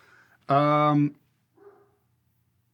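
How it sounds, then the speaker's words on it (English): A dog gives a single loud, drawn-out bark nearby, followed by a faint short sound and near quiet. "Hopefully my dog stops barking."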